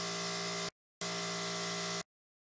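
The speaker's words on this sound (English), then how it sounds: "we're just deburring the edges here." A power tool deburrs the metal edges of a toolbox in two loud, steady bursts, each under a second long, separated by a short gap and then cutting to silence. No speech is heard.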